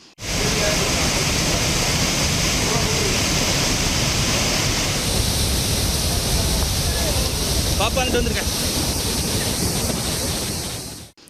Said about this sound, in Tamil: மெயின் அருவியில் பாதுகாப்பு வளைவை தாண்டி தண்ணீர் கொட்டியதால் அருவியில் குளிக்க தடை விதிக்கப்பட்டது